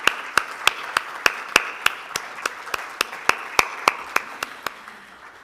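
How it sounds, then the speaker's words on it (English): Slow, evenly spaced claps ring out one by one at a closing summit session, about sixteen sharp hits over five seconds, as if a single pair of hands or a thin audience is clapping in rhythm, with no voices. "A big round of applause for all our speakers."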